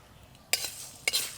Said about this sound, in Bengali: এবার সব মশলাগুলোকে আমি একসাথে ভেজে নেব।